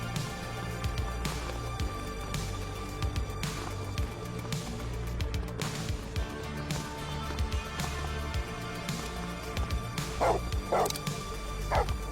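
Police K9 dog in The Precinct video game barking and yipping repeatedly in short bursts, with occasional whimpers, over steady game background noise, fairly close.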